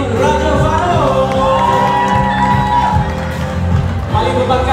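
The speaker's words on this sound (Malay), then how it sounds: "berikan tepukan untuk Tengku Indra" A wedding reception crowd cheers and claps for the guitarist, a loud, continuous wash of whoops and applause with some shouting mixed in.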